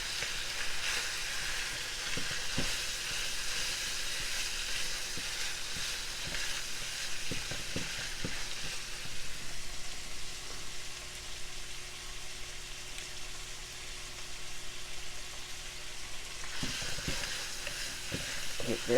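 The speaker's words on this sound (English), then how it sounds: "And that was a 1/4 cup of chopped onions. And let's cook this." A quarter cup of chopped onions frying in a single pot for cheesy taco spaghetti, a continuous loud sizzle with repeated spoon stirs and scrapes against the pot, no voices.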